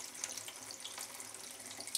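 Cold water pouring steadily onto an old Gore-Tex raincoat, a soft continuous hiss and patter that stays faint and even throughout.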